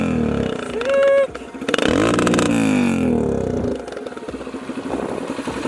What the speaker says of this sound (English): It doesn't want to rev out at all. Sounds pretty cool, doesn't it?